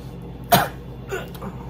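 One sharp, close cough bursts out, followed by a softer, throaty second cough or throat clear a moment later, indoors with no talk.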